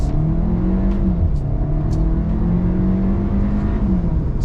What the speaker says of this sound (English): Pulling on the road, little acceleration.